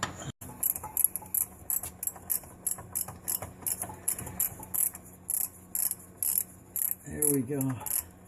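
A ratchet with a 19 millimeter socket works bolts loose on a crashed WRX, a close, loud run of rapid clicking strokes in a steady rhythm, with a voice briefly near the end.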